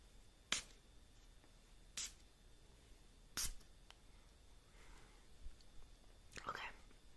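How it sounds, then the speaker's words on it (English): Perfume atomizer sprayed during a makeup roleplay at a party, giving several short hissing bursts spaced a few seconds apart, close and soft, with faint whispering between them. "So I'm gonna spray some perfume."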